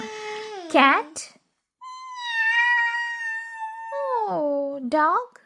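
A human voice imitates a cat's meow, giving two drawn-out, wavering meows with a long clear tone between them, close and alone during a children's animal-sounds game.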